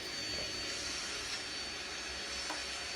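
A small motor whirs with a steady, faint hiss and drone, like a toy vacuum cleaner running continuously with no voices.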